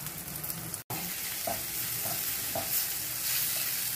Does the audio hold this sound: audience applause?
no